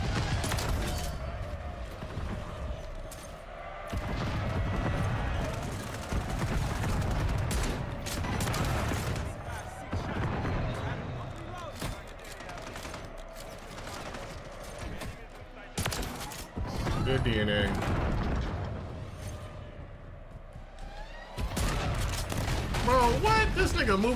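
A Reclaimer 18 shotgun fires in Call of Duty MW3 in repeated sharp, loud blasts scattered through fast in-game action, with mechanical clatter and footsteps between shots and someone speaking at times.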